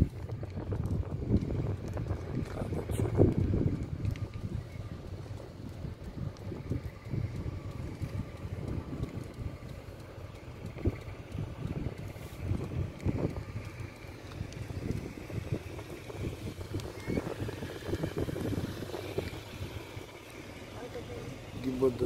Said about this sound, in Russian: Еще ветер сильный усложняет.